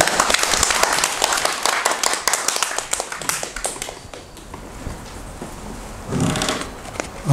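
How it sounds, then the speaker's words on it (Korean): A seated audience at a Korean talk event gives a guest a dense round of hand clapping. The clapping is loud and close for about four seconds, then fades into a rustling room. "천선 소장님 박수로 맞아주세요."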